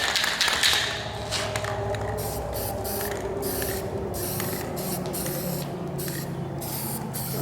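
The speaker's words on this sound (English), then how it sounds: "probably go back over it one more time with the paint we got in the can there" Spray can paint hisses onto a Volvo VNL 780 truck in repeated bursts, a loud steady spray broken by brief pauses and soft clicks of the nozzle.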